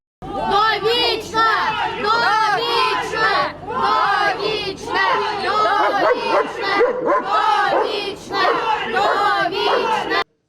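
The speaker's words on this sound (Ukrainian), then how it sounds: "Під вигуки довічно з одного боку та волю з іншого Зінченка проводжають до СІЗО" A large crowd outside a courthouse in Ukraine shouts and chants from opposing sides as a murder suspect is led away to detention, loud, dense and continuous for the whole stretch, with voices overlapping in rhythmic waves.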